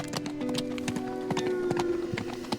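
A black horse clip-clops in the game Teardown, its rhythmic, fairly close hoofbeats layered with game music and no talk.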